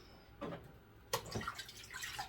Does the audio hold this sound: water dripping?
yes